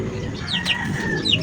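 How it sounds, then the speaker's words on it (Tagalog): Chickens and chicks cluck and peep steadily in the background on a home banana ice candy prep area. The chirps repeat in short bursts over a constant low hum, and no voices are heard. "background music ko ay yung manok, yung sisiw"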